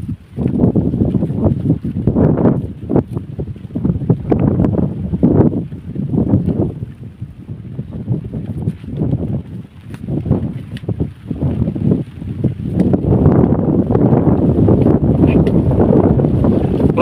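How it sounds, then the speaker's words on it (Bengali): Strong monsoon wind buffets the microphone outdoors during a rainstorm, a loud continuous roar in gusty surges for the whole stretch. "প্রচুর বাতাসের শব্দ"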